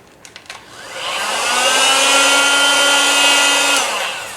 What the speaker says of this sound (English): So this is the heat gun I'm going to use.